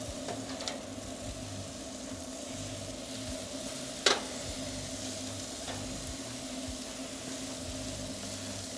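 Asian-marinated pork belly sizzling on a grill under a closed lid, a steady soft crackling hiss with a single sharp click partway through.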